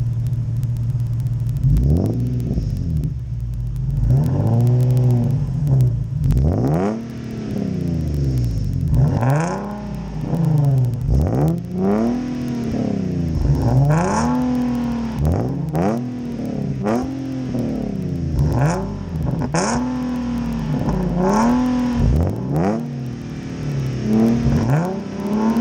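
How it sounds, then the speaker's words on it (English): A Nissan 370Z with a new exhaust revs again and again, each blip climbing and falling in pitch over a rumbling idle, loud and close with short pauses between. "We're gonna do exhaust rev comparison."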